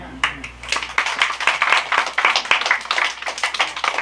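Church congregation in a special lecture gathering claps together, sharp distinct hand claps in a quick uneven rhythm, fairly close and loud.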